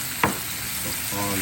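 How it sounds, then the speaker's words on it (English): Mushrooms drop into a hot pan for teriyaki chicken, giving a brief sharp hit followed by a soft, steady sizzle of frying. "I'm just gonna put my mushrooms in like this. And as you get that sizzle"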